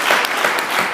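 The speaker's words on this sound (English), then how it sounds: "would you just give God a hand clap of praise" Congregation clapping hands in praise during a church service, a dense, loud burst of applause filling the whole brief moment.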